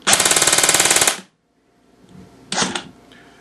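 A loud, rapid burst of full-auto fire from a Code-8 airsoft electric gun lasting about a second, followed by silence and then a brief mechanical rattle.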